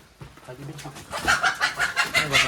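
A white hen clucks and squawks in agitated bursts as it is caught inside a shed, with close, rhythmic calls growing louder toward the end.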